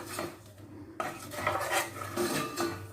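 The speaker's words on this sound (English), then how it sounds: "So stir in the Italian style cheese." A spoon stirs Italian-style cheese into a sauce in a pan for cheesy dauphinoise, giving close clinks and scrapes of cutlery against cookware in irregular bursts with no talk.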